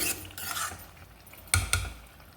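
A spoon stirs thick chicken biryani in a metal pot with soft scraping, then two sharp clanks against the pot's side near the end, close and alone.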